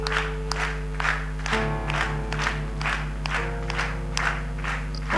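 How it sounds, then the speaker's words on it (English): A church congregation claps hands together in steady rhythmic beats during a ministry gathering in Mzuzu, with a sustained musical drone or keyboard tone underneath and no talking. "We're going to start clapping our hands like this."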